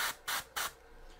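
Airbrush spraying primer in three short, even bursts with brief pauses between, each a close, hissing puff, followed by a fainter trailing hiss.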